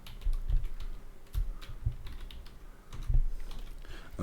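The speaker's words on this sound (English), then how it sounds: "Typing the master password." Quick bursts of typing on a computer keyboard, soft close keystrokes in short irregular runs with brief pauses, alone with no talk.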